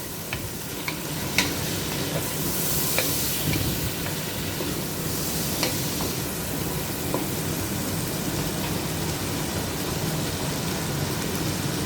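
Spices for beef biryani fry with turmeric in a pan, giving a continuous close sizzle and hiss with occasional scraping stirs and small clinks, steady throughout and without speech.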